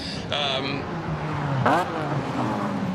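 An LS V8-swapped Scion race car roars past at a GRIDLIFE race in South Carolina with a rising rev and a sharp whine, mixed with talking over the top.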